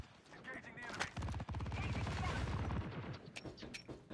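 Rapid automatic gunfire in the mobile shooter Call of Duty Mobile, a sustained burst of fast shots with a few isolated rounds after it, heard close and loud during gameplay.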